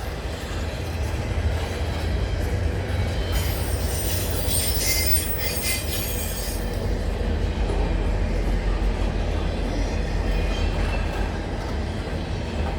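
A CN freight train rolls past at night at Snider, Milepost 23 on the York Subdivision: a loud, steady rumble of cars that never lets up, with a few seconds of high wheel squeal partway through and no voices.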